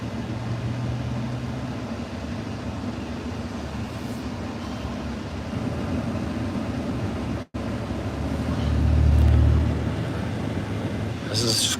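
Slow in-car traffic crawl near Skid Row, a steady low engine and road rumble at walking pace that swells briefly near the end, with a short dropout midway.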